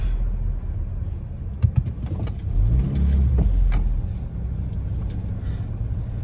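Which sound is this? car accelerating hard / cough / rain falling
car accelerating hard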